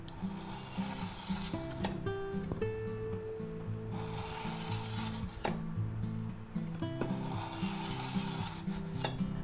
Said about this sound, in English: we'll take our aceti knife here, the Santoku, and we'll go ahead and sharpen it